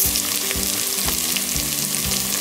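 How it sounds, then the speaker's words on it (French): Spaghetti goes into boiling broth for a soy sauce soup, a steady loud bubbling hiss that fills the whole moment, with a low melodic tune running underneath. "Dans le bouillon bouillant, je mettrai mes spaghettis"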